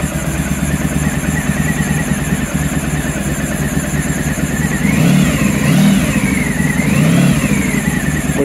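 Honda ST1100 motorcycle engine, under refurbishment, running close by at a steady idle before two or three rising revs that swell and fall back, the drone loud and continuous throughout.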